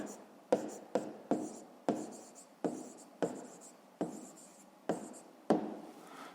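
Pen writing on paper in short scratchy strokes, about nine separate bursts in a loose rhythm, close and fairly quiet, with no talking over them.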